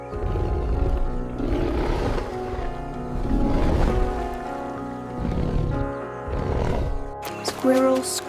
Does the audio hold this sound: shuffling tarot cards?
no